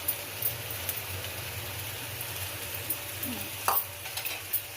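Pepper rasam is stirred in a pot just after salt goes in, a close, continuous bubbling, sizzling swirl with small clinks and splashes of the spoon against the vessel.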